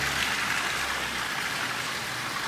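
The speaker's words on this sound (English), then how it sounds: "Here's another fountain." Water splashing steadily in a resort fountain, a constant broadband rush close by with no voices or other sounds over it.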